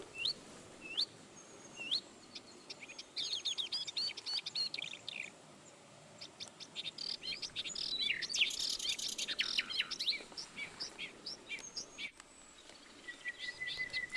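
Reed warbler and blackcap sing from among bushes, a busy mix of short chirps, whistles and trills repeating over steady outdoor ambience, moderately near, with a denser chattering burst midway and no voices.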